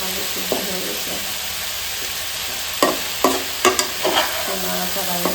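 Potato bhaji is stirred in a pan over a steady sizzle, with several distinct spoon scrapes and knocks coming close together toward the end.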